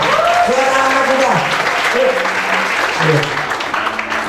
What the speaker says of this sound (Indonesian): Kasih tepuk tangan dong buat anak kita.